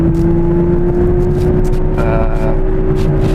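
An Aston Martin V12 S runs along as it is driven, its engine giving a steady, even drone with a smooth whir that holds unbroken throughout, with no talking.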